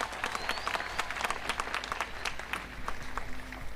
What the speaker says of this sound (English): Let us give her another big round of applause.